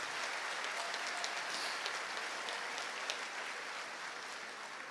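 An audience of public attorneys at a national convention applauds steadily, a dense, even wash of clapping that stays faint and distant throughout, with no voices rising above it.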